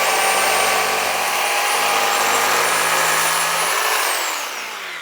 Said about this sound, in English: I'm going to take my reciprocating saw